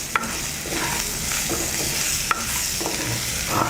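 Chopped tomato and green chili fry in tempered spices for khichdi, a continuous close sizzle broken by several sharp scraping knocks of a spoon stirring against the pan.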